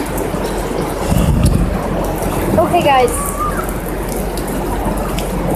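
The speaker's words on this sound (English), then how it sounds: "Hopefully the rain is gonna stop." Heavy rain pours down during a crazy storm with flooding nearby, a dense, loud, steady hiss filling the whole stretch, while a person speaks briefly over it.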